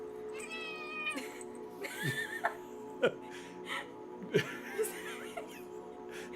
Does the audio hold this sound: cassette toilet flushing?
no